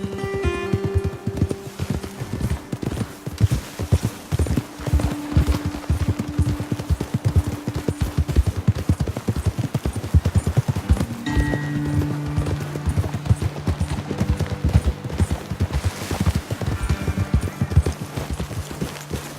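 Horse hooves galloping in Red Dead Redemption 2, a steady, rapid, close clip-clop rhythm lasting throughout with a low musical drone underneath.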